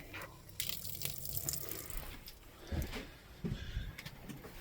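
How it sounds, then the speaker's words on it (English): Water running from a tap in a Fleetwood RV as the pump draws pink antifreeze through the line, an uneven splashing flow with intermittent sputters and low pump thumps, close and fairly quiet. "when I turn on the pump and I turn on the water"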